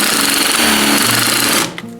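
A drill turning a reamer bit grinds into a part of a vintage Trek 950 mountain bike, a loud buzzing rattle with shifting pitch that stops abruptly near the end.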